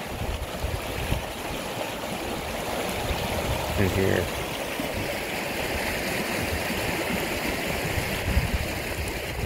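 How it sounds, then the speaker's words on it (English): Steady rushing mountain river water fills the scene, a constant broad wash of flow, with someone briefly speaking over it. "But this river is just beautiful."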